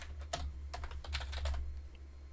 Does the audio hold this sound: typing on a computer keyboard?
yes